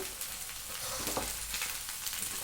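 Green chilies fry and sizzle in a hot pan as an okra dish is cooked, with a steady crackling hiss that holds for the whole moment, close and unbroken.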